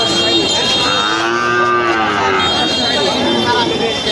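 A Sindhi or Sahiwal heifer at a cattle market in Lohay Bazar, Gazipur, gives a long, loud, close moo. Faint voices can be heard in the background.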